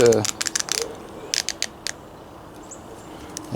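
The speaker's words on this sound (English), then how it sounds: "got the torque wrench here" A torque wrench ratchets on a Poulan 42cc chainsaw during a rebuild, giving quick bursts of sharp clicking near the start, a second cluster a moment later, then quiet.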